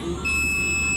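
A steady high-pitched electronic beep from an ANENG ST180 clamp meter's continuity buzzer sounds continuously, close and clear over low background noise.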